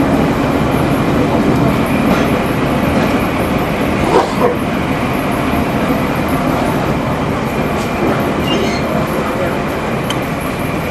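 A crowded passenger train pulling out of Daulatpur railway station in Bangladesh, a loud, constant rumble of carriages heard from aboard, with a faint voice or two and a brief bark mixed in.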